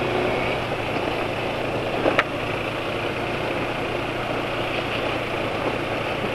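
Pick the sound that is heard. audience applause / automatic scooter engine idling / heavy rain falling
automatic scooter engine idling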